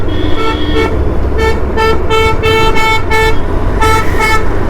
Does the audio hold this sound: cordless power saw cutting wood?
no